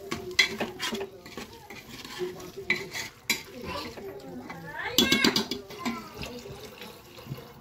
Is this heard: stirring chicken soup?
yes